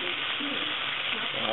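Liver sizzles steadily in a buttered pan, a continuous close frying hiss with no pauses, and faint speech-like sounds underneath.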